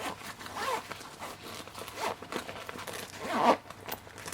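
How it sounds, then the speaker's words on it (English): A zipper is drawn along a Vanquest Sticky Cube pouch to expand it, giving close, raspy zipping strokes in short bursts, with the sharpest pull near the end. "if we pull this zipper here"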